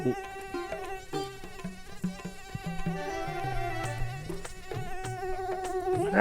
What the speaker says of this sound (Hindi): ससुर मच्छर नाक में दम कर दिया है।